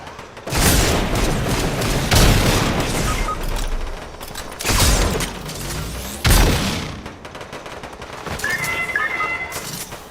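Exploding swords fired in Fortnite go off in a series of heavy booming blasts with rattling gunfire between them, four or five big loud bursts over a constant busy backdrop of game noise.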